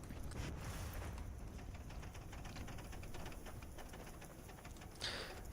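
Bird calls from a chicken in the Fallout 76 video game, with steady game ambience and a soft mechanical hum underneath, repeating faint rhythmic clicks throughout and no talking.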